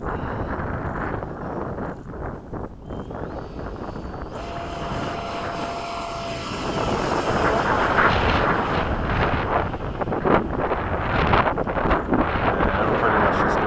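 A radio-controlled F-16 model jet takes off and climbs at the Bayside flying field in a breeze, a loud continuous engine roar rising in intensity, with wind buffeting the microphone and someone talking over it.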